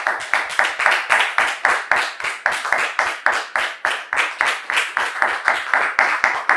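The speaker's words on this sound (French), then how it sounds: "Et ce sera avec vos applaudissements que nous allons donc les recevoir." A studio audience claps in steady, rhythmic unison to welcome guests onto a French television talk show, each sharp beat landing evenly and loud for several seconds with no voices over it.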